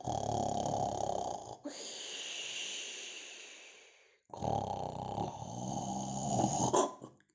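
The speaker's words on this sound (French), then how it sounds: "le vagabond se mit à ronfler très très fort" Two long, loud snores rattle close by, a harsh rasping inhale, then a breathy exhale, separated by a brief silence.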